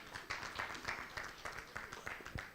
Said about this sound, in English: you people who understand that, please clap for him.